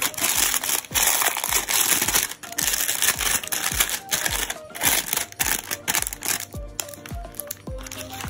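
Cellophane candy wrapper ends being fluffed and crinkled by hand while making fake wrapped candy tree picks, a close, steady run of crisp crackling bursts with no talking.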